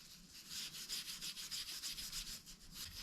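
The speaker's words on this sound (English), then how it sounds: "just scuff it up with a bit of wire wool" Wire wool scuffing over the body of a Stratocaster-style guitar, a steady run of quick raspy rubbing strokes, close and fairly soft, with no talking.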